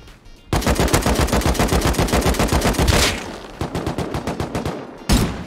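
Rapid automatic gunfire in a multiplayer shooter, a long close burst of evenly spaced loud shots, a short pause, then another shorter burst and a final single shot, with no talk.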